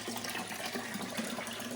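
Rinse water drains back into the tank of a Weekend Warrior vapor honing machine by Vapor Honing Technologies, a continuous, fairly quiet rushing and trickling flow with no voices.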